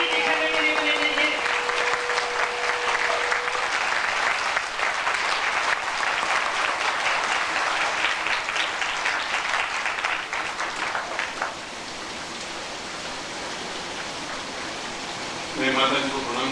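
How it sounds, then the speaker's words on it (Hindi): Sustained, loud applause from a large audience at a 1997 Guru Purnima sadhana camp, filling most of the stretch with dense clapping that thins out near the end, where voices briefly rise. "जोर से तालियां बजाओ कि सफल सिद्धि लेके जाएंगे।"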